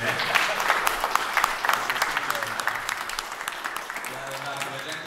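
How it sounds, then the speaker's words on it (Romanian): An outdoor crowd at a village day celebration in Mănăstirea Cașin claps together, a bright patter of many hands with sharp individual claps, while voices murmur underneath. "Așa că să o mai aplaudăm o dată,"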